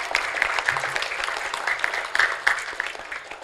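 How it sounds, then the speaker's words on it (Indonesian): Applause for children at an Islamic elementary school's Quran graduation and open exam, with a burst of quick, dense, moderately loud clapping from an indoor audience that continues steadily for a few seconds. "tepuk tangan buat anak-anak"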